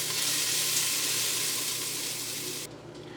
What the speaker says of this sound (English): take the tomatoes and put them in the pot with the garlic and onion that have been sauteing in olive oil